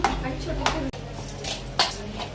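Crushed roasted chilli thecha being stirred into cooked tomato in a pan, with a few clear scrapes and clinks of a utensil against the pan over a steady background hiss.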